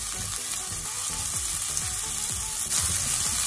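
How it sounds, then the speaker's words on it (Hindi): Finely chopped onion stir-fries in a tablespoon of oil in a pan, a steady close sizzle with bursts of crackle and soft stirring scrapes, no voices. "प्याज को हम अच्छा सा स्टर फ्राई करेंगे।"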